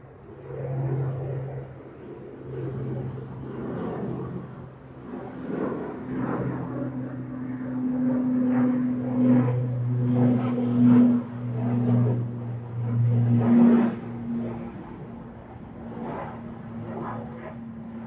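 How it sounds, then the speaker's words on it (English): Boeing 787-8 airliner taking off at a windy Manchester Airport, a distant steady jet roar with a low droning hum that swells and fades over the span, heard alone without talk. "we've got the 787-8 series off to Cancun."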